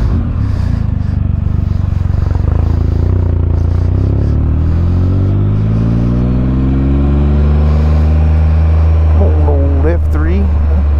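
A 2016 MV Agusta F3 motorcycle with a Two Brothers exhaust, heard close and loud with a rising, revving engine note that climbs steadily in pitch before a short throttle blip near the end.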